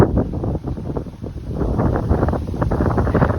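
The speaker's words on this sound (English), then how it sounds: "that breeze feels good" Steady breeze buffeting a microphone on a hiking trail, a low rumbling whoosh that swells and dips continuously throughout, with no talking.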